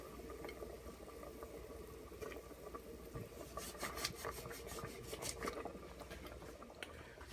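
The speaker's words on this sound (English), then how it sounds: "Now I will drop meatballs, koftas into the boiling water, one at a time," Meatball koftas being dropped into water at a rolling boil in a pressure cooker for Kashmiri gushtaba, a soft continuous bubbling with small splashes and plops, quiet and close, with no voices.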